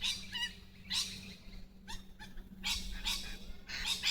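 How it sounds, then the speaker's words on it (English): Birds at an overnight bush campsite during a dust storm call in repeated sharp, excited bursts, faint and somewhat distant, coming in quick clusters with brief gaps between them. "all of a sudden all the birds up here started going berserk"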